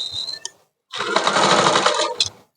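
A sewing machine stitches a frock, first with a brief quick burst, then a pause, then a longer, louder whirring run of about a second and a half close by.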